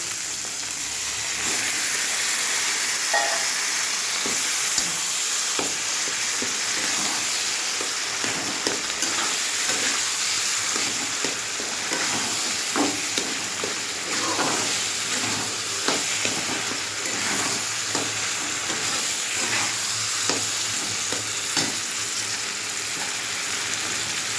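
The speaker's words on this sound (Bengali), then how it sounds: "দেখো ভাজা হয়ে গেছে চিংড়ি মাছটা। এবারে কচুর শাকটা দিয়ে দেবো।" Shrimp and taro leaves fry in a pan with a continuous loud sizzle and hiss, punctuated by scattered pops and stirring scrapes, close and steady throughout.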